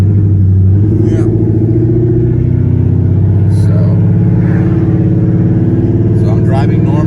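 A Ford Mustang engine rumbling at steady cruise, a loud deep drone heard from inside the car with a slight rise partway through, voices talking over it.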